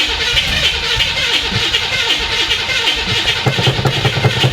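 A flooded 1966 Chevy Impala SS with a freshly replaced fuel system cranks steadily, the starter churning loud and close in an even rhythm as the engine struggles without catching.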